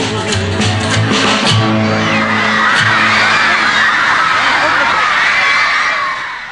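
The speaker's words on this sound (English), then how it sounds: "All these fans going wild and screaming" A crowd of fans screaming and cheering wildly, a loud continuous roar of high shrieks that swells after a few seconds of singing and music, then trails off at the end.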